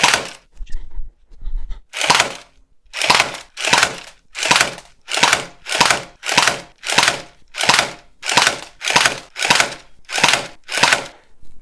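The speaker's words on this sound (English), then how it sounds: "put the launcher in a vise and fire at a piece of paper again" A Nerf dart launcher clamped in a vise fires at paper in a long, regular series of about fourteen loud whooshing bursts, each lasting roughly half a second, evenly spaced and close.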